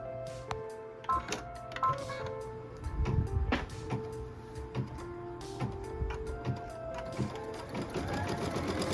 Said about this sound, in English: what we're stitching now is the fabric placement line